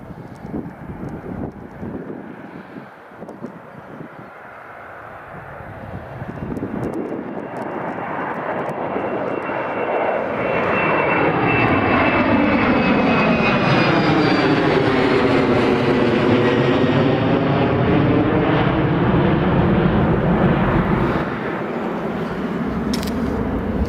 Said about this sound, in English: TUI Airways 737 MAX has just called up. It's on the approach for runway 25 now